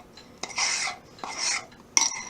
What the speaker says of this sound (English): And you want to make sure that you mix it very well.